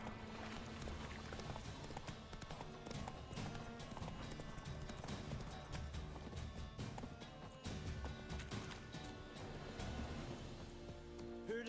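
Hooves of Roach, the horse in The Witcher 3 video game, keep up a steady galloping clip-clop throughout against dense game music and ambience, moderately loud with no pause.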